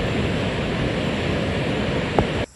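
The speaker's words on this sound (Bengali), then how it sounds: "ওদিকে এই যে নদীর জল যাচ্ছে" River water comes down from the hills through a rainy forest in West Bengal, a loud, continuous broadband rush. A brief knock sounds near the end before the noise cuts off.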